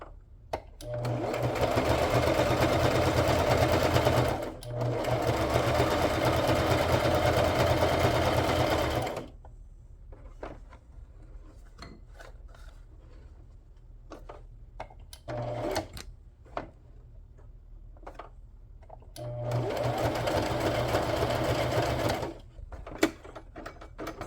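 A sewing machine stitches a journal ephemera box in loud sustained whirring runs, stopping and restarting in several bursts separated by quieter pauses with small clicks.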